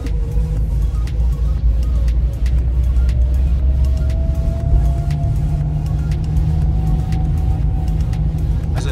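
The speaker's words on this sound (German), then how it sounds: "Er klingt ein bisschen wie ein Polo, hat aber ein bisschen das Getriebegeräusch vom Trabant" A Trabant 1.1 from the pre-series fitted with a VW engine driving along, steady engine rumble with a rising whine from the gearbox, loud and close inside the car, with no talking.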